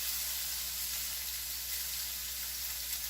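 Onions hitting melted fat in a pan on high heat give a dense, even hiss that holds steady throughout, close and alone with no voices.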